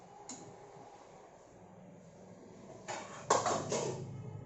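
A spoon stirs cashew and turmeric gravy in a pot: a quiet stretch with one faint tap, then a burst of close metallic scraping and clatter against the pot near the end.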